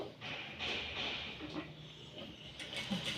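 A sewing machine roughly stitching a blouse while a sleeve is attached, a quiet, steady mechanical whir with a fast repetitive chatter that swells and eases briefly.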